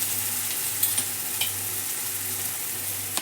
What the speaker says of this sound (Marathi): टमाटा चांगली हलवून घ्यायचे